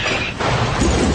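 A toy train engine from Thomas and Friends smashes into a freight car with a loud, dense crashing burst that fills the moment, close and sustained for about a second.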